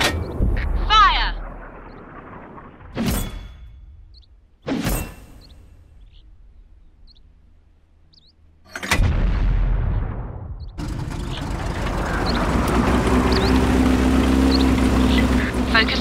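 Tank cannon shots in World of Tanks, with the Fv403 tank destroyer in play: several loud, sharp booms a few seconds apart, each with a rumbling decay, then a sustained engine and battle rumble.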